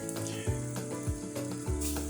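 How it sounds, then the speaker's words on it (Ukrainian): Salmon sizzles and fries in well-heated oil in a frying pan, a steady close crackle and hiss beneath soft background music, with no talking. "Все, кладемо нашу сьомгу на сковорідку, масло розкалилось"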